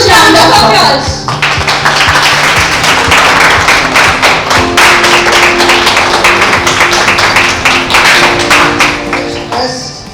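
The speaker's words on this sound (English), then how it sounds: "Let's welcome him with a Huge round of applause." A huge round of applause greets a speaker at a launch ceremony for blood gas analyzers, dense clapping filling about ten seconds and fading out at the end, with talk heard at the start and close.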